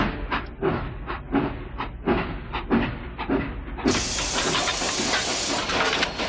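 A steam locomotive in the Wii game Mad Dog II: The Lost Gold chuffs in a rhythmic run of puffs, then gives way to a loud, steady hiss of venting steam.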